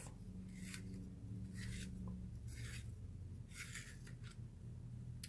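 Lilac colored pencil being sharpened in a handheld sharpener: four short, soft grinding rasps spaced about a second apart, close and quiet, with no talk.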